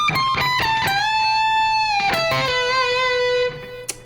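Electric guitar lick from a solo: a few picked notes, then a long bent or slid sustained note that drops in pitch, played clean-ish and solo before cutting off.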